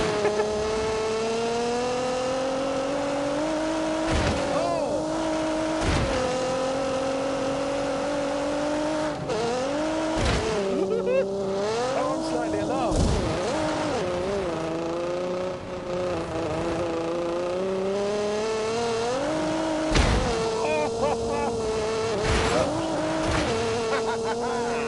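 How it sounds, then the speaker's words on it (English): A turbocharged Ford EcoBoost car tuned to just under 300 brake horsepower is driven hard, its engine note climbing and dropping through repeated gear changes, loud and close, with a voice talking over it. "a Ford EcoBoost, so it's turbocharged"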